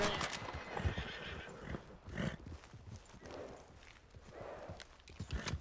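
A horse whinnies and snorts in a western ranch roleplay game, with bursts of hoofbeats and movement scattered through, moderately close and alone without talk.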